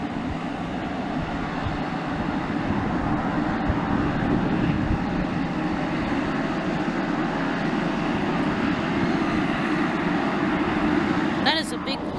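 A plane taking off at Aurora Municipal Airport near Chicago makes a loud, close, sustained roar of engine noise that stays strong for the whole stretch, with a short clatter near the end.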